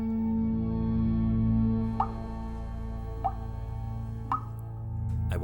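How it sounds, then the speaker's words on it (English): Water drips in a dark setting, three distinct plops spaced about a second apart, heard over a sustained low droning ambient tone. "It was a dripping sound."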